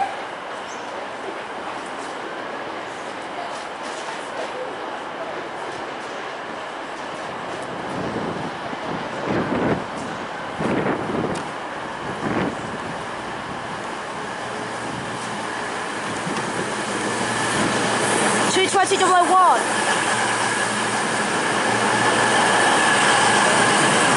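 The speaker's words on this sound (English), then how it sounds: "They are arriving onto platform number 3 at Derby." A CrossCountry Class 220 diesel unit pulling into platform 3 at Derby, a rising rumble of the approaching train with rail clatter and a burst of wheel squeal as it slows alongside the platform.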